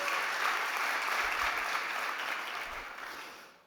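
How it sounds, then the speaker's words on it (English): Applause from the audience at a startup pitching competition, steady and sustained for several seconds before fading out at the end. "Can we have a big round of applause, please, for Alfredo Montilla?"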